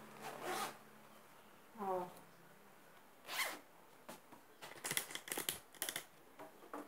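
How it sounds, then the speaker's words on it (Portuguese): A zipper closes on a sewn cushion cover in several quick pulls, and the last ones come as rapid, rasping bursts. Someone speaks briefly in between. "fechar aqui o zíper."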